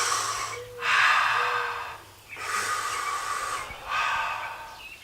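A client breathes deeply during a trigger point massage, with three long airy exhalations separated by short pauses, close and clear with no talking over them.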